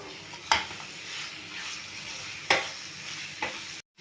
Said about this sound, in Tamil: சிக்கன் போட்டு நல்லா ஒரு 2 நிமிஷம் வணக்கலாங்க.